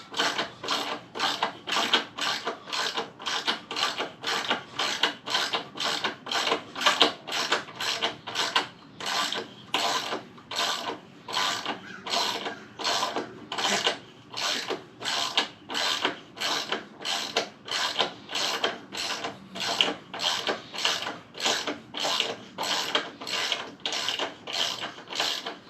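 Ratchet wrench loosening a bolt while installing motorcycle frame sliders, a long series of rapid, evenly paced clicking strokes repeating throughout, close and steady.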